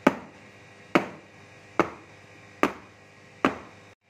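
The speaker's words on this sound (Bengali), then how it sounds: "এবার দেখো বাটিটা আমি ভালো করে ট্যাপ করে নিচ্ছি।" A bowl of cake batter tapped firmly on a surface five times at an even, slow rhythm, each knock sharp and close with a short ringing decay, no talking.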